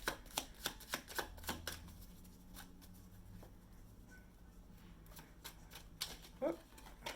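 Tarot cards shuffle in quick, crisp riffling taps, a rapid run of clicks at first, then sparser taps and a soft card flutter near the end, close but faint, with a brief voice in between.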